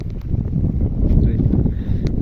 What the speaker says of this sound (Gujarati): પવન કાળા ઝુલમનું છે એટલે હરખો અવાજ નહીં આવતો હોય.